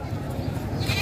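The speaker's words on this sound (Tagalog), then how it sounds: "3 kambing." Goats at a livestock trading market, their bleats blurring into a loud, constant mass of animal calls with a crowd murmuring throughout the short stretch.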